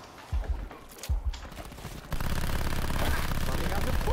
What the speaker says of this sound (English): There goes Diego, gunning down freaks with that big stupid grin on his face.